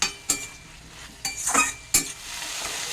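Winter vegetables and fenugreek leaves being stirred and fried in a pan with only a tempering of spices, giving a steady sizzle broken by three sharp scraping stirs, close and clear, with no voices.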